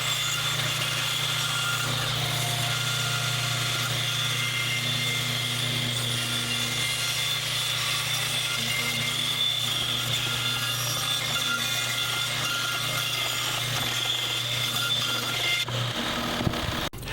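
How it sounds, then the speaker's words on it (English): Bandsaw trimming maple and walnut wood, a steady loud motor hum and blade whine running continuously, then dropping off abruptly at the very end. "we'll take it right back to the bandsaw and trim off that little bit right there"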